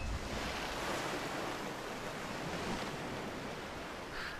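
Water pouring and rushing in steadily inside The Unfinished Swan, a broad continuous wash that stays loud and even throughout with no voices.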